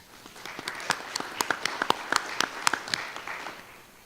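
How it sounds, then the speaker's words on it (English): Modest applause at a county school board meeting, a small group clapping for several seconds with distinct individual claps standing out, fairly close and moderately loud. "Let's give them a round of applause right there"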